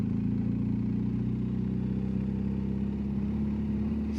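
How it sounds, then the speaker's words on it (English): A BMW motorcycle engine idles steadily at close range in Rotterdam, giving a constant low, even drone with no revving for a few seconds. "Motorbike."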